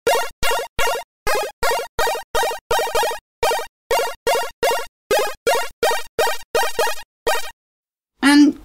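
An 8-bit chip sample in Open Mod Plug Tracker, triggered about twenty times in a quick even rhythm, each repeat starting further into the sample, bright buzzy bursts alone, ending with a longer squeaky tone.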